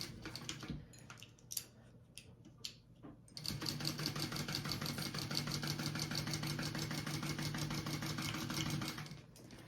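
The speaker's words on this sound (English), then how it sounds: "I'll top stitch it down here so it's kind of attached to the foam as well down here at the bottom." A sewing machine top stitches a seam through fabric and foam. A few soft handling clicks come first, then a steady, fast mechanical whirring stitch runs close up for about six seconds before stopping.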